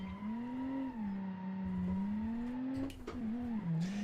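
A community-built wagon in the BeamNG driving game launches forward, its engine holding a steady drone that rises and dips with a brief shift or tire scrub near the end, loud and close with no talking.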